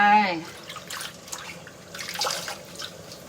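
Freshly picked vegetables from a Thai-style home garden in Japan are rinsed in a basin of water, with splashing and sloshing bursts after a short spoken phrase at the start.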